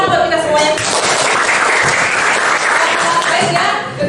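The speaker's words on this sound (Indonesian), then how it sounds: "tepuk tangan dong buat kita semuanya" A classroom of pupils claps together, a dense, loud burst of applause that holds steadily throughout at close range.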